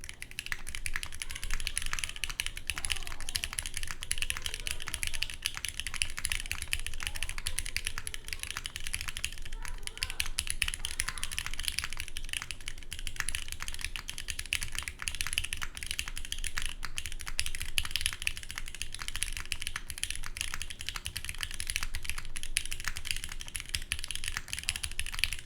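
Continuous typing on a GODSSON mechanical keyboard with Oil King switches and a carbon fiber plate, a dense, even stream of soft clacky keystrokes captured close-up with no talking.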